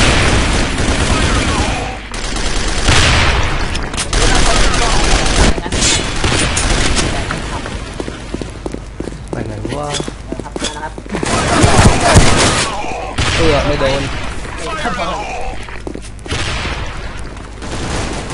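Rapid bursts of gunfire from the online shooter game Sudden Attack, loud and nearly continuous with booms mixed in, while players talk excitedly over the shooting.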